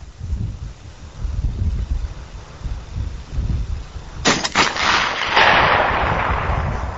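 A Barrett M82A1 SASR sniper rifle fires at a thick steel manhole cover target outdoors. One loud, sharp report is followed by a lingering rumble and echo over steady wind noise.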